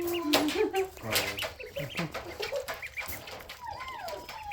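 Baby ducklings peep close by in quick, high, wavering chirps that come in irregular bursts, some overlapping, against faint background rustle.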